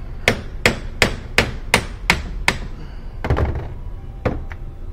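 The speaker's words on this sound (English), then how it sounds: "The joint should just knock off." A hammer strikes repeatedly to knock the outer CV joint off the axle of a 1.8T front-wheel-drive VW B5 Passat, seven sharp evenly spaced metallic blows, then a brief scrape and a couple more hits, loud and close.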